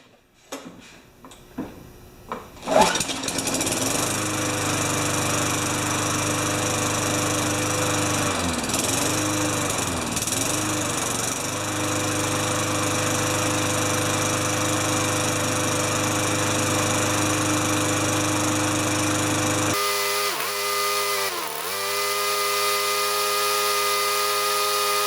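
A Craftsman lawn mower starts with a few sputtering pulls, then settles into a loud, steady engine drone nearby, with a brief dip in pitch and a sharper change in tone near the end.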